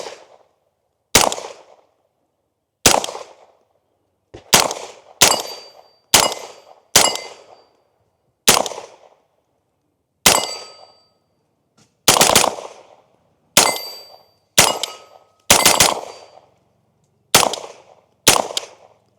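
Unsuppressed SLR9 AR9 pistol-caliber rifle fires about fourteen loud, sharp single shots with short ringing decays, spaced irregularly about a second apart, some in quick pairs.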